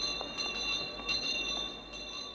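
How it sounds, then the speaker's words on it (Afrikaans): A cartoon train rolls along on its way to the mountains, a faint, steady rumble of wheels on rails with a sustained whistle-like tone over it. "Is jy seker dat hierdie trein na my huis in die berge gaan?"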